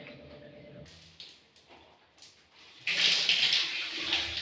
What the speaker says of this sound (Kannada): ಚಿಕ್ಕ ಮಗು ಥರ ನೀರಲ್ಲಿ ಆಟ ಆಡ್ತಾ ಇದ್ದಾನೆ